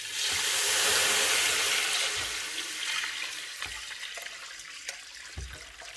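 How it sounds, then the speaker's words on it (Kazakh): Water gushes into a pot of pearl barley toasted until golden, a loud rushing pour at first that softens into bubbling sizzle and scattered clinks as the pour eases. "енді су құямыз."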